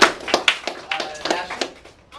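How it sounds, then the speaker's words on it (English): A short burst of scattered clapping from a small classroom group, uneven and fading out after a couple of seconds. "Okay, so group round of applause."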